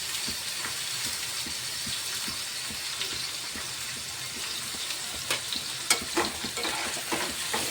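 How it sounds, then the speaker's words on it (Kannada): Onion and chopped coriander frying in hot oil, a steady close sizzle with soft stirring scrapes and a few sharper clinks near the end, no talking. "ಎಣ್ಣೆಯಾಗ ಚಂದ ಫ್ರೈ ಆಗಿಬೇಕು ರೀ."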